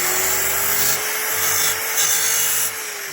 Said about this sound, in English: And then you use your variable speed polisher grinder, and you sharpen the tool very similar to this.